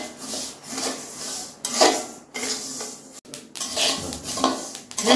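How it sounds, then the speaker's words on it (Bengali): Sesame seeds dry-roast in a hot wok, half a batch at a time. A spatula keeps scraping and stirring through the seeds, giving a steady rustling rasp with short pauses between strokes. "এবারে আমি হাফ হাফ করে তিলগুলোকে দুইবারে ভেজে নেব।"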